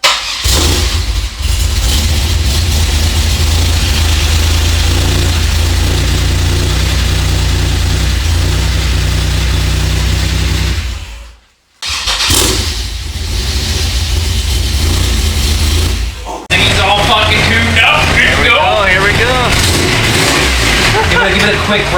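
A Chevy V6 fitted with a huge cam runs loud and close, with a rough idle and repeated revs, then a short drop to near silence before it picks up again, with voices talking over it.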